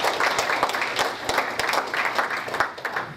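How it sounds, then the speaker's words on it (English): Audience applause at a local community discussion in a banquet hall, a steady crowd of hand claps with a few sharper individual claps standing out, fairly loud and continuous throughout. "go ahead and give all these gentlemen a round of applause"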